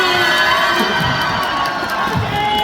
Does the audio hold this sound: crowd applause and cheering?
yes